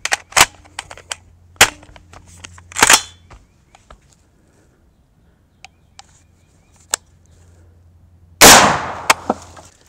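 A .223 full metal jacket rifle fires through a floor, sharp loud cracks with a few smaller clanks and ticks around them, then a final heavy blast late on, close by in an otherwise quiet room.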